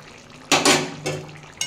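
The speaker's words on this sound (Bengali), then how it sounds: "এবার একটু নাড়িয়ে নেবো।" A spoon stirring green jackfruit curry with garam masala and ghee in a metal cooking pot, a few close scraping clanks against the pot, the loudest in the middle, with a faint sizzle underneath.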